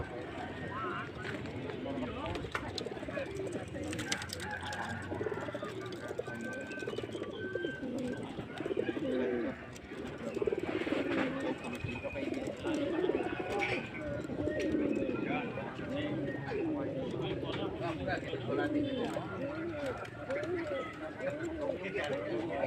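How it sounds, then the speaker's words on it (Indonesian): Pigeons coo in a dense, overlapping chorus at the Kroya pigeon market in Cilacap, Central Java, with wing flutters and crowd chatter and footsteps around them. Voices talk throughout over the birds. "Sebelah sini bagian burung-burung."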